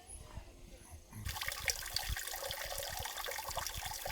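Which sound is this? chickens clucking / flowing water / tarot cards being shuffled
flowing water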